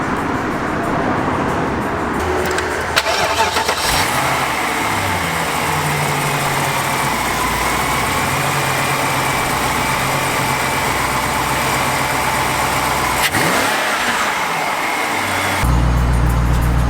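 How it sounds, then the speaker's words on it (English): A BMW 645ci engine turns over and catches, then idles and revs up several times, loud and close. "take a look and listen to the engine and the exhaust"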